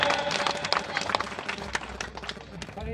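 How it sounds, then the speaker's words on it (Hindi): Audience at a school cultural program at Genius Public School in Panjipara claps and cheers in a dense, continuous wash of applause that carries on steadily for the whole stretch, with crowd noise mixed in. "एक बार जोरदार तालियां"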